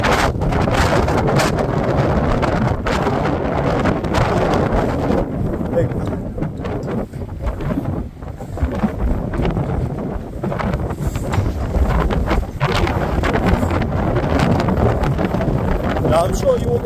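Strong wind buffets the microphone continuously in loud, rumbling gusts that never let up, with a roaring low-end blast throughout, on a road trip in Norfolk.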